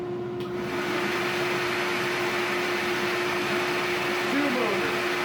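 Record Power Camvac dust collector motors running: a steady, loud broadband roar with a strong mechanical hum, continuous from start to end after a brief start-up at the beginning.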